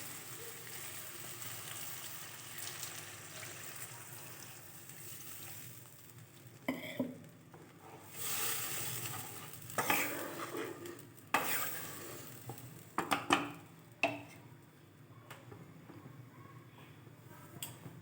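A taro and potato curry comes up to a simmer in a pan once water has gone in with the spices. Soft bubbling and a faint sizzle are heard, with intermittent clatters and scrapes of a spoon against the pot.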